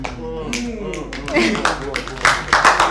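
A person claps their hands in a run of sharp, uneven claps during a studio discussion, close and fairly loud, with talking over and between the claps.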